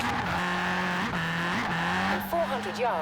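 A stock-engined Ford Puma with a turbo, driven in Forza Horizon 4, holds a steady engine drone that dips and climbs slightly with a brief squeal near the end, with talk over it.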